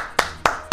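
Three sharp hand claps, evenly spaced and close, sounding one after another with nothing else around them.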